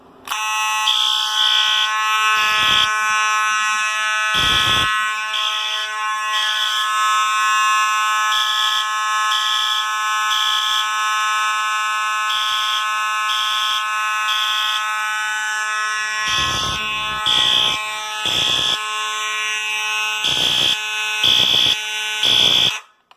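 A loud fire alarm horn, pulled from a T-bar station, blares in a steady, continuous tone, with short breaks toward the end where it pulses on and off.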